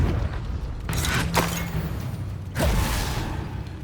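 Confringo blasting spell in Hogwarts Legacy: two loud, sudden whooshing blasts about a second apart, each ending in a rumbling boom, with no voices.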